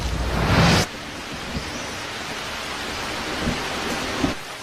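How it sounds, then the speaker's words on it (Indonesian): Steady rain falls in a storm, with a loud broadband burst in the first second like a thunder crack, then continuous hiss of rain and a few faint low rumbles of thunder. "Tidak lama hujan pun turun."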